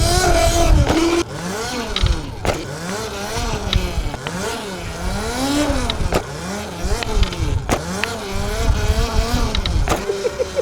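Electric bike fitted with an upgraded motor accelerating hard on the throttle, its loud whining motor pitch rising and falling over repeated pulls, close and prominent throughout with road noise underneath.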